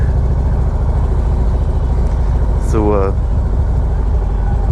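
A Harley-Davidson Street Glide rumbles steadily at low pitch during a ride, with wind noise around it and a brief spoken word near the middle.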